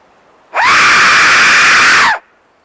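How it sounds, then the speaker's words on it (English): A single loud, sustained scream in a forest during a ghost hunt at Cannock Chase, lasting about one and a half seconds against near silence, close to the recorder. "can you show your presence by the way of a scream?"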